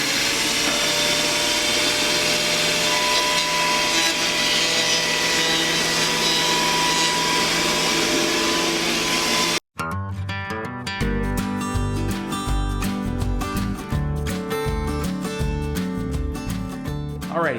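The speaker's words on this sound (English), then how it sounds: "now we have to run it through the planer to get rid of all this old dried on glue" A steady, loud wood planer whine runs for several seconds, cuts out briefly, then returns with a rougher, chattering grind as old dried glue is shaved off a wooden board.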